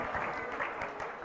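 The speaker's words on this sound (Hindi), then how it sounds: "उनका तालियां बजाकर अनुमोदना कर दें" An audience at a religious discourse gathering claps in a brief, dense wash of applause, fairly distant and even throughout.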